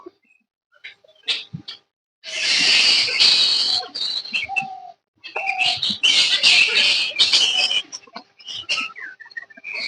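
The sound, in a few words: many birds calling around a quiet temple pond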